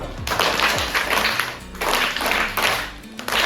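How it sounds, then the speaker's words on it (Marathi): Schoolchildren in a third-grade class clap for a classmate's prize, a loud burst of many small hands applauding in waves with a short dip in the middle, close and lively. "चला सर्वांनी टाळ्या वाजवा"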